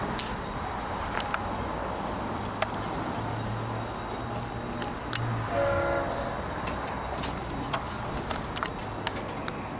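V/Line N468 locomotive hauling a train past South Geelong station, a steady low rumble with rattling wheel clicks and a brief horn-like tone midway.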